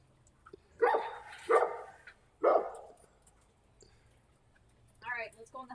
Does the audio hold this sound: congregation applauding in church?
no